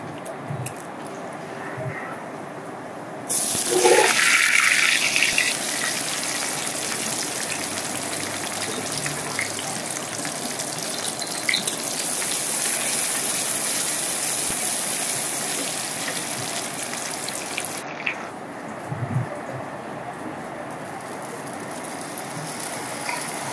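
Garlic and onion hit hot oil for tempering a khichuri, bursting into a loud, steady hiss and crackle that holds for about fifteen seconds before dropping away, with faint talk around it.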